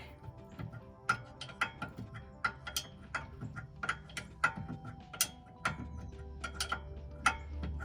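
Quick ratcheting clicks from a hand wrench worked in a tight engine space, arriving in short rhythmic bursts of sharp ticks, close and fairly loud, with no talking.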